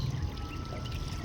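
Water pours steadily onto eggplant plants during morning watering on a farm, a continuous close splashing trickle with no break.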